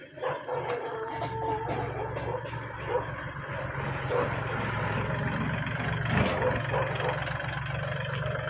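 A 2011 Kubota L3608 tractor fitted with a front dozer blade and a mower runs with a continuous low diesel drone, while a dog barks now and then and faint voices sound in the background.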